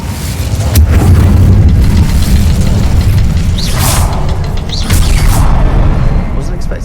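Incendio fire spell cast in the game Hogwarts Legacy, loud booming bursts of flame and impact with crackling effects, close and dense, with a spoken voice mixed in.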